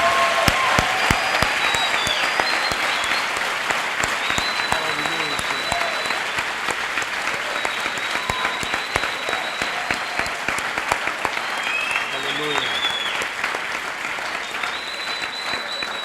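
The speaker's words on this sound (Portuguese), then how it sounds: "Quantos querem aplaudir Jesus por isso?" A church congregation at an evening retreat applauds continuously with dense, sustained clapping, while a few voices and cheers rise faintly within the ovation.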